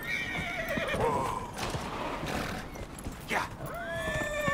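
Horse neighs and whinnies in the fantasy video game Dragon Age: Inquisition, with clip-clop hooves under a short spoken word and a second whinny near the end.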